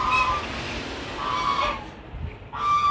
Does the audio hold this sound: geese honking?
yes